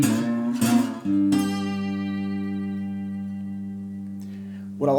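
Slide guitar lick from a Delta blues tune: a few plucked notes, then one long sustained slid note ringing and slowly fading, with a fresh pluck at the very end, played solo and close.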